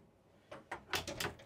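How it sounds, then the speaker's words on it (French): Cabin doors aboard a Greenline 58 all-electric flybridge boat open and close, giving a few soft sliding knocks and clicks in quick succession, faint and close, without talk. "les portes se ferment et s'ouvrent vraiment très facilement"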